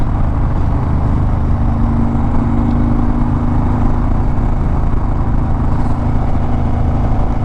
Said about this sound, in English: It'll also be my first time running the 360 on the Harley.